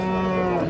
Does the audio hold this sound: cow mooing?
yes